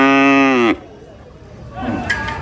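At a cattle market where cows are sold for Qurbani, one cow gives a loud, close moo that cuts off abruptly, followed by muffled crowd noise and rustling.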